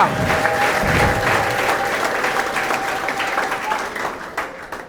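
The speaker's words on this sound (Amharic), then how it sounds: "ለጌታ እልልታ ጭብጨባ።" A church congregation at a deliverance service claps in sustained, dense applause, with a wavering ululation cry and voices mixed into the crowd noise, loud and close throughout.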